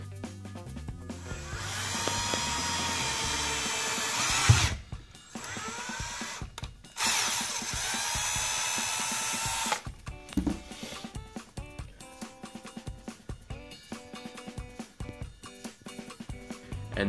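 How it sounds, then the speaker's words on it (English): A power drill drilling out the valve stem of a T-shirt cannon whines in several bursts, stopping and restarting, followed by a stretch of clicking and scraping mechanical noises close by. "Here we have the valve stem that we use to pressurize the gun in the pressurization chamber. We just drill that out."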